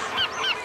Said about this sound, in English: Dude, you a damn seagull.